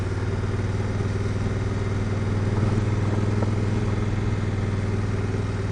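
A 2016 Honda Africa Twin motorcycle engine drones steadily through a ride on a forest trail, a close, constant mid-pitched rumble with mild throttle swells and no talking.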